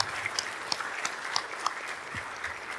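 Applause from a conference audience at the end of a legal metrology panel: faint, scattered hand claps with a few sharper individual claps standing out over a low wash, heard from some distance.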